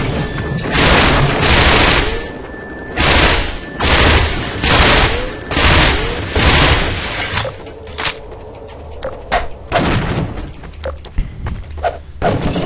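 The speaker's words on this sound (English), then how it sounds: "the trick to keeping the SMG useful is firing in bursts" SMG fire in Half-Life 2 comes in loud, heavy bursts, several close rattling volleys separated by short pauses, then sparser single shots and thuds toward the end.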